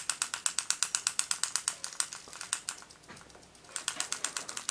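A graver handpiece piston runs with an irregular stroke, giving a rapid stream of sharp mechanical ticking that stumbles and thins out midway before picking up again, close and fairly quiet.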